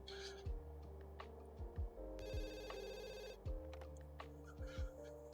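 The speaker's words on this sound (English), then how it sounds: "Oh, someone's calling us. Herb, go get the phone." A telephone rings in The Sims 2 with a repeated electronic ring tone, heard against the game's background music and soft interface sounds at low volume.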